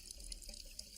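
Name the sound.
water running freely from a sink faucet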